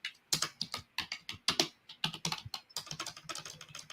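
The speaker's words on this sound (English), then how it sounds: "that's the loudest typing I've ever heard" Loud, rapid typing on a computer keyboard, with sharp, close keystrokes rattling in quick irregular bursts and no voices over them.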